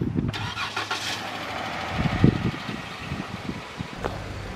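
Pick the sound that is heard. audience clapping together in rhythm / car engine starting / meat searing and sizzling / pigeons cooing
car engine starting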